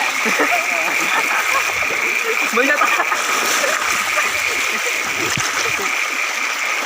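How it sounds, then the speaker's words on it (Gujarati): Steady rushing and splashing water fills the clip continuously, a dense broadband wash with no pauses. "મિત્રો આટલો આટલો પાણી છે"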